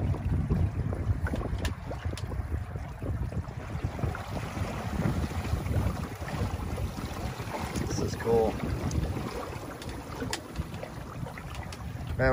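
A Windrider 16 sailboat moves across open water, with steady rushing water, hull wash and wind buffeting the microphone throughout, all at a constant loud level.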